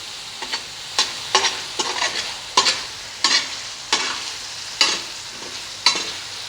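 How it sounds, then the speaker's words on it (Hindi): Beef liver (kaleji) fries with spices on a hot tawa, a steady sizzle broken by about a dozen sharp, rhythmic stirring scrapes of a spatula against the metal, close and clear with no talking. "ये 2 मिनट तक मैं इसको मसाले के साथ ही फ्राई करूँगी।"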